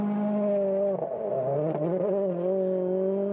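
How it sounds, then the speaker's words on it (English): A regional rally car accelerates on a special stage during a European Rally Championship event in Latvia, its engine note steady and strong, dipping briefly before climbing again. "See a slight gain there from the regional rally car on the acceleration."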